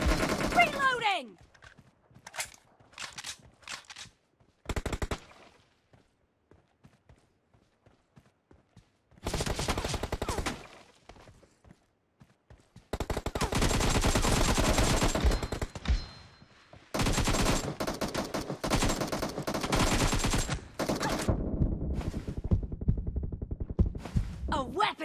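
PUBG Mobile gunfire in a demolition match: loud bursts of automatic fire come in separated blocks, alternating with gaps and game announcer voice lines.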